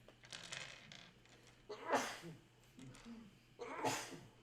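Two sneezes a couple of seconds apart, close and fairly sharp, with faint murmuring around them.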